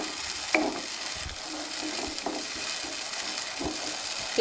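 Tamarind juice poured into a pan for mustard rice bubbles and sizzles as it is stirred, with soft scraping stirs and occasional clinks at a moderate, close level, no talking.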